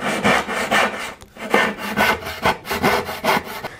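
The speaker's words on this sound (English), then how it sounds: "grabbing a carcass saw and cut down close to the line" A carcass saw makes relief cuts in a wooden workpiece, with steady back-and-forth rasping strokes in an even rhythm. The sawing is loud and close, with one short pause partway through and no talking.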